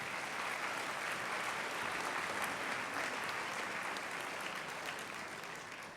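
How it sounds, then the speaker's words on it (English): Sustained audience applause fills a school orchestra concert hall after a performance by 7th through 12th grade student orchestras, a dense, steady wash of clapping that holds loud for about six seconds before easing slightly at the end. "How about a nice round of applause for them?"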